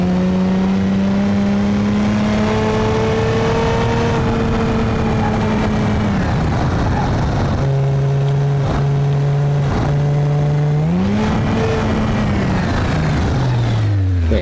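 A BeamNG.drive SC2800 Turbo all-wheel-drive car with a 2.8 liter turbocharged V6 revs loudly and steadily, its engine pitch holding, dropping and climbing again through gear changes, heard alone and close.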